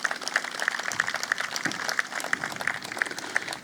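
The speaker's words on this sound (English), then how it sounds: "So let's give them a round of applause as well." An outdoor audience at a groundbreaking ceremony for a trail linkage project claps steadily, a dense patter of many hands at a medium distance that continues without a break.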